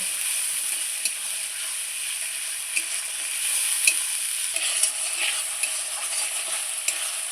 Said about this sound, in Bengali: দেখুন বন্ধুরা, আমি মশলাটা কত সুন্দর করে কষিয়ে নিচ্ছি।